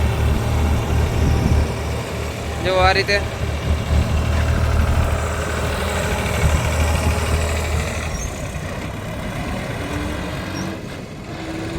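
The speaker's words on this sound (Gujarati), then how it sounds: "કેટલો લોડથી ટ્રેક્ટર હાલે છે" John Deere or New Holland tractor engine running under heavy load, a loud continuous low drone heard close, with someone speaking briefly over it and a short whine partway through.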